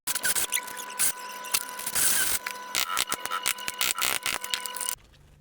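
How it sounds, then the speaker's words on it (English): A 20mm auger bit drills out the keep recess for a mortice door lock in a wooden door frame, giving close, rapid ratcheting and grinding bursts that stop abruptly near the end, with no speech. "I get my 20mm auger bit and take out the necessary amount"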